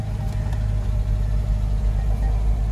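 A salvage Range Rover's engine idles steadily from inside the cabin, a low, even rumble with a faint hum on top and no revving or talking.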